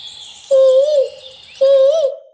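A human voice mimics a green parrot's call with two loud, tuned, warbling squawks about a second apart, each close and clear against a quiet background.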